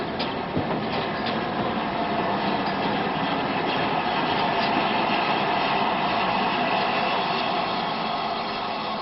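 LMS Stanier 8F steam locomotive 48305, built at Crewe in 1943, running on the Great Central Railway: a steady, broad rumbling roar of a passing train, loud and continuous for the whole stretch with no voices.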